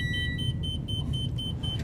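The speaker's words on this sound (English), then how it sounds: "what was beeping was that equalizing system." An RV's equalizing system in a 2024 Renegade Valencia 38RB beeps in a steady series of short, evenly spaced electronic tones, about nine in under two seconds, over a constant low engine rumble.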